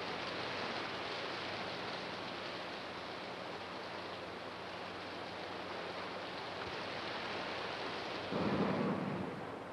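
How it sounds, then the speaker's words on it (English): Steady heavy rain pours in a dense hiss, with a deep rumble of thunder swelling near the end. "There's your rain, but good."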